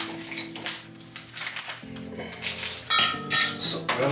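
Spoon clinking and clattering against a coffee container in a kitchen, a few light metallic chinks scattered over four seconds alongside dish and cutlery handling, close by with no talk.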